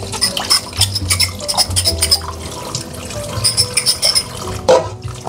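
Dishes washed by hand at a kitchen sink under running water, with pots, plates and cutlery clinking and scraping near and loud throughout.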